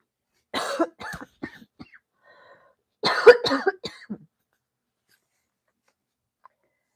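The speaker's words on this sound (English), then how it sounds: "still congested and coughing, but better" Two bursts of coughing from a congested person recovering from illness, a quick run of harsh coughs followed by a pause and a second louder cluster, close and indoors with no talk.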